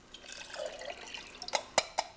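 Room-temperature water poured from a cup beside a homemade volcano-style camp stove: a soft, continuous trickle, then a few sharp splashy drips near the end, close and fairly quiet.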